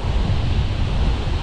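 Ocean waves wash against a rocky breakwater on the coast near Playa Caobita in Azua, a loud continuous roar of surf mixed with heavy wind buffeting the microphone.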